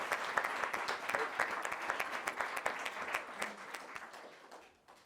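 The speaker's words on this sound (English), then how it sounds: "Let's keep up the applause, please." Sustained applause from an audience at a school musical production, dense steady clapping that fades out near the end.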